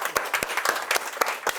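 An audience applauds at a hospital research institute with dense, close hand-clapping in an uneven patter, short and moderately loud, with no talking.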